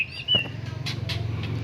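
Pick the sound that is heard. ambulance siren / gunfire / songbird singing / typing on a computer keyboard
songbird singing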